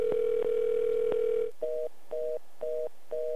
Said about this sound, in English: Many people who dialed a dedicated 1-800 number for Obama tickets in the last 24 hours heard nothing more than this.